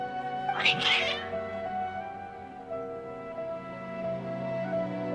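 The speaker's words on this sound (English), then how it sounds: "Your cats seem pretty worked up." Agitated cats meow from within Genshin Impact: one loud, strained cry near the start, followed by a long sustained tone that lingers beneath a steady musical backdrop.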